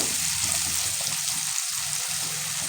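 Food fries in a pan with a constant, close sizzling hiss that holds steady throughout, with no talking.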